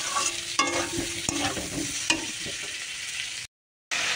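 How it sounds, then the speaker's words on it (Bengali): Spices with salt, turmeric and chilli powder sauté in oil in a pan, a close sizzle with a few utensil scrapes, then a brief dropout of silence before the frying resumes. "এবার এটাকে না আমি ভালো করে কষবো"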